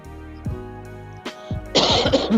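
A few short, sharp coughs, close and loud, then a louder burst of harsh throat-clearing coughs near the end.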